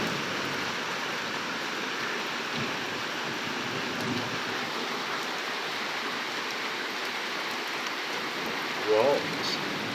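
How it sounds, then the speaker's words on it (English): Heavy rain pours down in a steady, dense wash of noise that holds evenly for the whole stretch, with a brief brighter sound near the end. "It's pouring."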